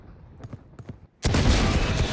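After a few soft clicks and thuds, a sudden loud burst of gunfire in Valorant erupts and stays dense and roaring to the end.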